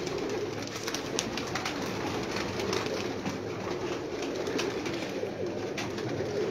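Rooftop pigeons coo softly in repeated low calls over constant outdoor background noise, heard from a short distance with a faint mechanical hum beneath.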